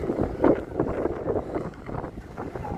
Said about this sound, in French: Là, il y a du vent, ça fait du bien.